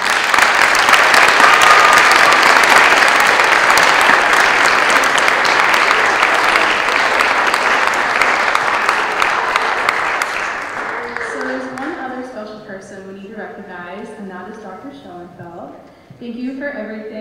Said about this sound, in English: Let's give the seniors a warm round of applause.